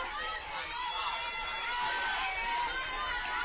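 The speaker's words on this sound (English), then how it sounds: "A raucous crowd here at University Field, anxious for their Missouri Tigers to move into the 8th and final spot" A raucous crowd at a college softball game at University Field, a distant, fairly faint babble of many voices and general hubbub with an announcer talking over it.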